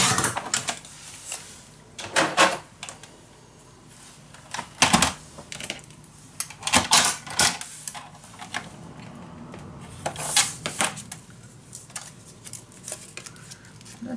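Paper being cut while assembling a Graphic 45 Mother Goose scrapbook mini album: crisp, close, irregular snips and slicing strokes that come in short clusters with brief pauses between them.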